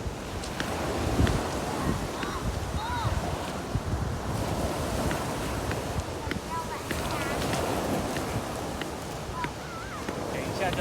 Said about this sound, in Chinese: 爸爸就叫你来看一下海浪，你可以玩石头。